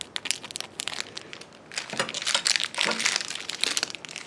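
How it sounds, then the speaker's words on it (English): Plastic packaging crinkles and crackles as a Kobalt multi-tool blade is pulled out, irregular bursts of close crumpling, quiet at first and then busier and louder. "just go ahead and take that out of the package"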